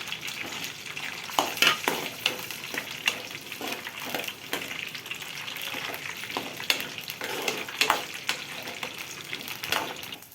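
Steady crackling sizzle of tempering spices and dried red chillies frying in hot oil, with sharp pops and bursts scattered throughout, close and fairly loud, no voices.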